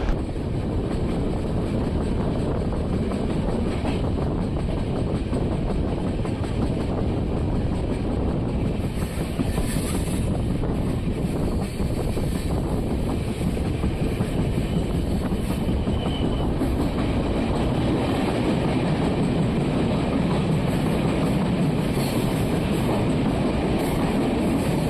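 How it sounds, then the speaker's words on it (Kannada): A train rolls into Lonavala railway station with a continuous loud rumble and rattle of wagons, steady throughout with a faint clickety-clack and wind buffeting, no voices. "ಲೋನಾವಾಲಾ ರೈಲ್ವೆ ಸ್ಟೇಷನ್ ನಮ್ಮ ಟ್ರೈನ್ ಒಂದು ಒಳಗಡೆ ಹೋಗ್ತಿದೆ"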